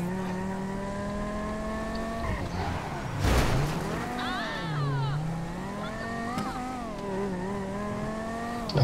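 A small yellow car drives away in GTA 5, its engine revving steadily with gear-change pitch sweeps and a brief burst of noise midway, loud and continuous.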